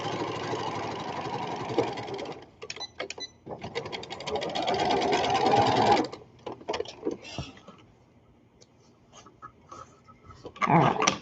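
An older home sewing machine stitches in fast whirring runs, stopping and restarting several times with short pauses and a quieter stretch before a final burst.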